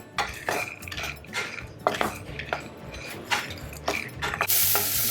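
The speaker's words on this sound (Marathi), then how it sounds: "असे चांगले भाजून घ्यायचे हे दाणे" Pigeon pea seeds being dry-roasted in a pan for kachori filling, with repeated scraping and clinking of a spatula against the metal and a faint sizzle underneath, close and steady.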